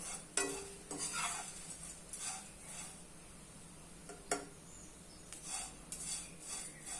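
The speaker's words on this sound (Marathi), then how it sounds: "अधूनमधून सारखं हलवत राहायचं जेणेकरून सगळीकडून पोहे भाजले गेले पाहिजेत" Flattened rice (poha) being dry-roasted and stirred in a pan for sweet jaggery ladoos, with repeated scraping strokes of a spoon against the metal and a faint sizzle, close and moderately quiet with no voices.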